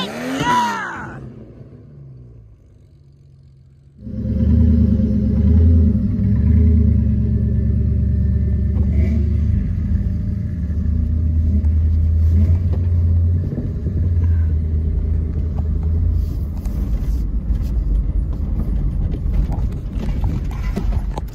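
A car revs its engine at a Gambler 500 off-road event, a deep sustained rumble that kicks in after a brief quiet and holds loud and close.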